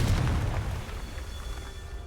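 A Confringo blasting spell explodes in Hogwarts Legacy, a loud low boom at the start that rumbles and fades into a lingering roar.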